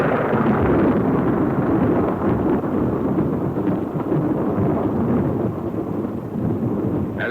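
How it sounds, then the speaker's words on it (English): Atomic bomb blast wave striking trenches: a sustained, loud, broadband roar and rumble, dense and unbroken throughout, with no voices. "Seconds later, the blast wave reaches the trenches."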